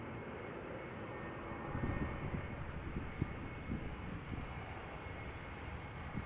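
An airliner arriving from Alicante lands at Amsterdam Schiphol on a misty day and brakes on the runway, a distant, steady low engine roar with rumbling that swells slightly midway.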